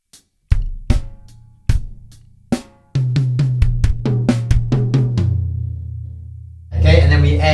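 A drum kit plays a fill from a song: sparse, loud, sharp hits ring out at first, then a quick run of accented strikes over a sustained low boom, ending in a crash wash.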